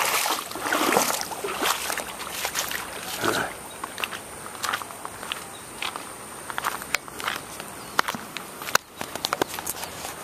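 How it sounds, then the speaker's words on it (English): Feet wading through the cold Frio River, a continuous close watery sloshing and splashing with irregular stepping surges, while a voice speaks briefly. "time to get the feet wet in the river and go that way"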